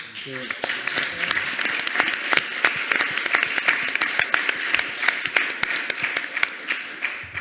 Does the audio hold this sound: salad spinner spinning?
no